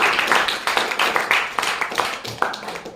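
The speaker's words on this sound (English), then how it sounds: "Let's have a big round of applause for Lavish." An audience at a speakers forum claps, a brisk run of separate sharp hand claps that holds at a fairly even level for the whole stretch, with no one talking over it.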